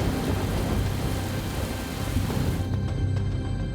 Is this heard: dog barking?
no